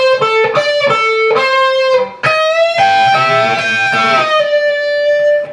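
A solo electric guitar plays a lick, loud and close, with a few quick picked notes, then string bends that sweep the pitch up and back down, and a sustained note ringing out at the end.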